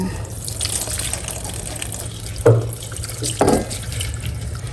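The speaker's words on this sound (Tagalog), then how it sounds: "Atin na lang pong hugasan bago natin pakuluan." Taro corms being rinsed under a running faucet at a sink, a steady hiss of flowing water with two brief louder splashes or knocks partway through.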